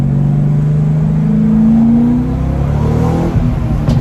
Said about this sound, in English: Oh, that backfired.